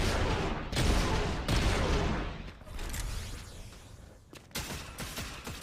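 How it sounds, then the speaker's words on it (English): Turbo laser fire from a TIE fighter in Fortnite Creative, a run of loud blasting bursts with booming impacts, rapid and close, then a short pause before more shots. "up here is their main armament, which is a turbo laser. You can blast things with it"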